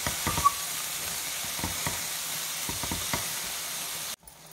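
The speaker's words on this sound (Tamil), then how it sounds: "முருங்கைப்பூவை நல்லா வதக்கி விட்டுக்கலாம்." Drumstick flowers sauté in a hot pan with an even, continuous sizzle, broken by a few soft scraping clicks of stirring, before the sound cuts off abruptly near the end.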